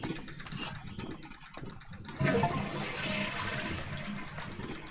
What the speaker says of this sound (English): Achievement flushing the toilet.